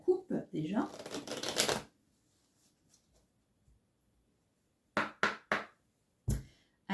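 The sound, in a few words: cutting and shuffling a deck of tarot cards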